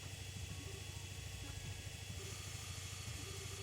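The Black Orbment machine's engine runs in the video game Trails in the Sky, a steady, even mechanical hum that drones on without letup.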